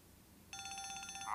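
A telephone starts ringing partway through a scene in the 2004 Korean film A Spy Girl. It rings in a fast, even electronic trill that continues to the end over a quiet room.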